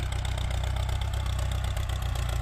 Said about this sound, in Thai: แต่ว่าวันนี้ก็รอบเครื่องเบาๆครับ